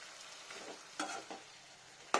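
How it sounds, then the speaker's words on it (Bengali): Potatoes and pointed gourd stirred as they fry in a pan over a low flame: a few soft scraping strokes of the spatula over a steady light sizzle, close by, ending in one sharper clack, with no talking. "একটু ভালো করে মিশিয়ে দিই আলু পটলটাকে।"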